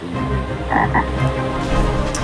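A jungle frog croaks loudly and steadily, its low throaty pulses repeating close by over a dense, humming background with no talk.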